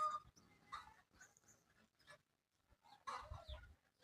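Free-roaming chickens clucking, several short close calls in irregular bursts with brief quiet gaps between them.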